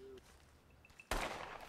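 Gunfire in the video game Red Dead Redemption 2: after a quiet stretch with faint scattered noises, one sharp, loud shot bursts out and trails off into a noisy decay.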